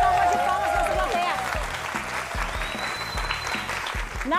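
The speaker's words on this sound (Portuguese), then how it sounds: "Uma salva de palmas pra nossa plateia." A studio audience applauding with sustained, dense clapping and some cheering, while a voice talks over it.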